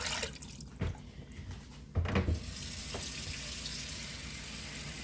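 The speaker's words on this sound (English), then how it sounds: "I'm going to put enough water to cover it" Water runs from a tap into a crock pot holding a Sam's Club rotisserie chicken, a steady splashing fill with a couple of louder gushes and clunks early on, close by and alone.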